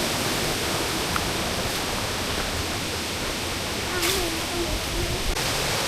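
Water rushes continuously down the sixth tier of a nine-tier waterfall in Suan Phueng, a loud, broadband roar with no break, close to the falls.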